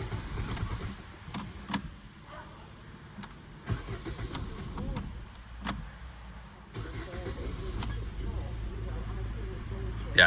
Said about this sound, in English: I kept starting it and turning it off to try and prime the oil filter a little bit